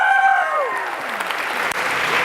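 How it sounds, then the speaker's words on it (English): An audience at a campus orientation presentation breaks into a steady round of applause, loud and close, with a few whistles or voices trailing off near the start. "Round of applause for Omar."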